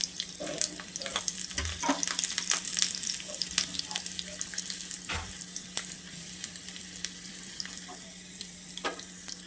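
Garlic cloves and two red chillies sizzle in hot ghee for a tadka, a soft steady frying crackle with scattered pops and faint kitchen clatter, fairly quiet and close.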